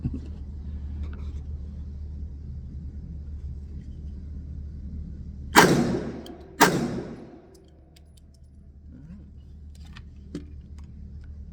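A Glock 19X-style pistol, original or clone, firing old dusty ammunition fires two sharp, loud shots about a second apart, each with a short echoing decay, over quiet outdoor background rumble.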